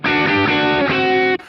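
Electric guitar played through a Joyo British overdrive pedal with the Mooer Radar power amp section switched off, a sustained distorted chord ringing loud and steady for over a second before cutting off.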